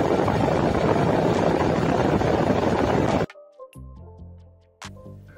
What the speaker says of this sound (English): You should be able to hear the noise of the fan running under the hood.